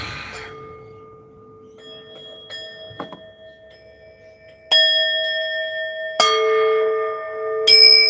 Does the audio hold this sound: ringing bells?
yes